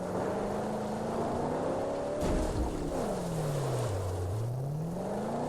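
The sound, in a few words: car engine purring in the Mad Max video game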